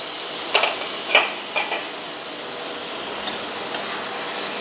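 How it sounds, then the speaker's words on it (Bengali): Boiled potatoes stirred into a masala in a pan, with a few distinct scraping knocks of a spoon spaced over several seconds above a steady soft sizzle, and no talking. "আলুর সাথে ভালোভাবে মশলাটা মিশিয়ে নেব"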